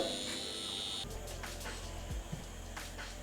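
A tattoo machine running at 6 volts with a curved magnum needle gives a steady low electric buzz. It starts about a second in and holds constant, close and moderately loud, with no talking.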